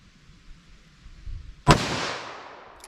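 A single sharp revolver shot from a .44 Magnum or .357 Magnum fired during a ballistic test cracks close and loud, then trails off in a decaying outdoor echo after a quiet lead-in.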